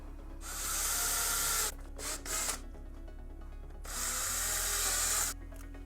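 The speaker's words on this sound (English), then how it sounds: "I want to go ahead and drill these holes here" A handheld drill bores screw holes in Boba Fett armor in a few close bursts: two longer whirring runs separated by short stuttering pulses.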